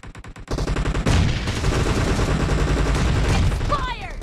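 Gunfire in the mobile game PUBG Mobile: a few quick shots, then loud, continuous automatic bursts with rapid repeated reports that go on close by to the end.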